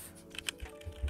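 Typing on a computer keyboard on a PC to search for a game: several separate soft key clicks in an irregular rhythm, close and fairly quiet, without speech.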